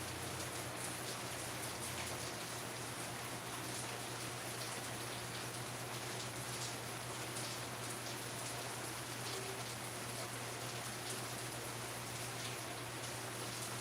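Heavy rain pours down steadily, a dense, unbroken hiss of drops striking surfaces up close, with a low constant hum underneath and no voices throughout.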